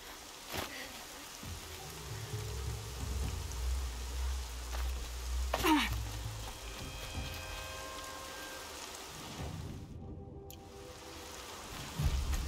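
Rain falls in Horizon Zero Dawn as a steady, broad hiss with soft patter, running continuously beneath low background game ambience.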